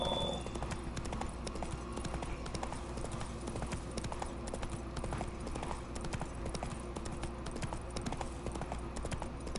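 Steady clip-clop of hooves from Roach, the horse in The Witcher 3 video game, plodding along without pause for nearly ten seconds over a constant bed of game ambience; no one speaks.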